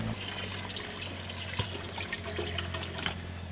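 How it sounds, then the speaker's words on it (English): Beef broth pours steadily into a camp pot of tenderized peppers and onions, a soft continuous liquid trickle and splash with a low background hum, no talking. "we're gonna go ahead and put some beef broth in there"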